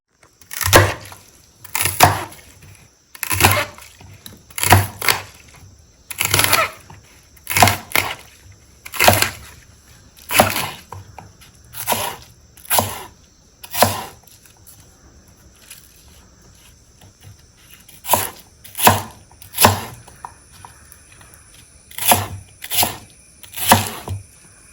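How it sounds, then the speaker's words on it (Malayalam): Vegetables being chopped into small pieces for olan, a Kerala dish, on a cutting board: a steady series of sharp knife knocks in quick bursts with brief pauses, close and clear, with no talking. "ഇനി നമുക്ക് കുഞ്ഞു കുഞ്ഞു കഷ്ണങ്ങളായിട്ട് കട്ട് ചെയ്തെടുക്കണം ഓലന് വേണ്ടിയിട്ട്."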